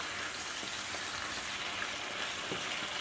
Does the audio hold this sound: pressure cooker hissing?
yes